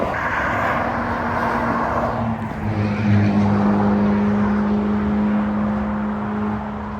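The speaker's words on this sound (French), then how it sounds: "430 qui gronde encore une fois sous le pont" A 430 sports car rumbles beneath a bridge over a Normandy motorway, its deep engine drone holding steady tones and swelling as it passes, loud and close over traffic hiss.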